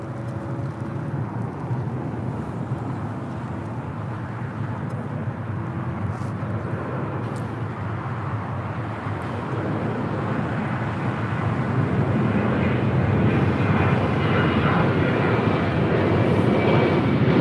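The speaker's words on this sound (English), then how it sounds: "This is United Airlines 1228 taking off to Tampa" A United Airlines Boeing 737-800 jet taking off at LAX, its engine roar building steadily from a distant rumble to a loud, broad wash of noise with wind buffeting.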